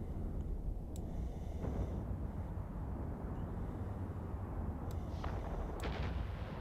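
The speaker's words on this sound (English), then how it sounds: "Rockets are so cool." Rockets fire during spaceship combat in Eve Online as a few sharp, booming launches over a dense, rumbling game soundscape.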